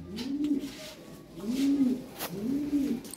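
Lahore siraji pigeons coo nearby in three soft, rolling phrases at a steady rhythm, with faint background rustle and no speech.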